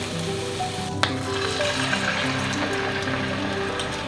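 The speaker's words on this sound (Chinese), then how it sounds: "我们翻完面之后呢再煎1分钟，之后再把酱汁倒进来。" Milkfish belly pan-fries in a hot pan with a loud, close, continuous sizzle and crackle, and one small clink near the start.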